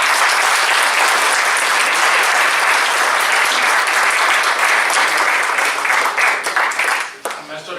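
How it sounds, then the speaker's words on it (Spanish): Audience applause at a formal event on the national anticorruption system, a loud, dense burst of clapping that runs steadily before thinning and breaking off near the end. "Le damos un fuerte aplauso."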